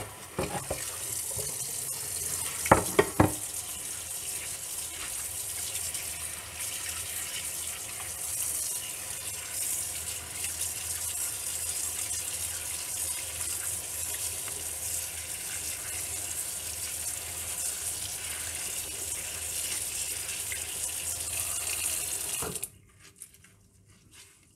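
Steady water runs from a tap while a teddy bear is rinsed, a continuous gushing hiss with a few brief splashy knocks early on, ending abruptly when the flow stops.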